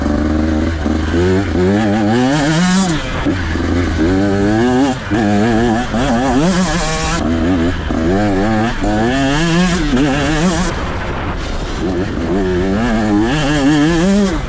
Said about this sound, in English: here's a few clips of me just kind of pulling it out of corners. You can just hear how it just picks up